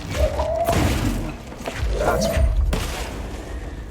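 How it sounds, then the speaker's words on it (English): In the video game Control, a two-stage charge blast thuds out as an explosion and then an implosion, with heavy low booms and crashing debris, loud and close, while someone briefly speaks. "It's a 2-stage explosion. First it explodes, then it implodes."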